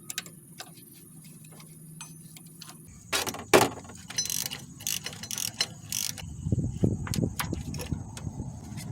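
A ratchet on a wobble extension loosens a 14mm bolt on a Toyota Camry Solara while its noisy power steering pump is being replaced, giving close, irregular clicks and metallic rattles with scraping and knocking between them.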